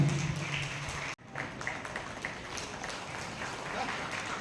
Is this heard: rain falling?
no